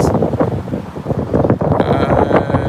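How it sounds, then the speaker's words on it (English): Strong wind buffeting the microphone outdoors near a market building, a loud continuous roaring rumble with gusty swells throughout, and faint talk beneath it. "The wind is very strong"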